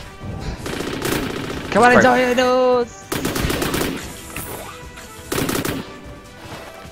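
Pistol shots in ORION: Dino Horde crack out in loud, rapid bursts, starting and stopping repeatedly, with a voice briefly calling out between them.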